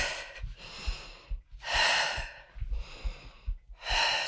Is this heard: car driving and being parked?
no